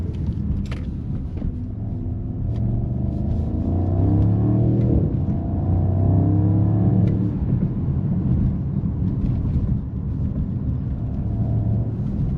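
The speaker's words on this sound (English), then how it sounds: "I'm just gonna let you guys experience the V8 exhaust sound." A 2025 Mercedes-AMG SL 63 S with its V8 exhaust pulls hard under acceleration, a loud close rumble climbing through rising gear sweeps before easing back to a steady drone, with no voices.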